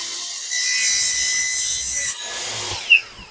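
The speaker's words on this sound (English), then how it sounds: "you can sand that a little bit with some sandpaper and take that melted plastic" Sandpaper rubbing over melted plastic on a garbage disposal drain pipe, a steady scratchy rasp lasting about a second and a half, followed by a few softer scrapes and a brief sharp tick.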